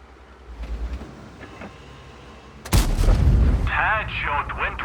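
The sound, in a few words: tank gun shot in World of Tanks video game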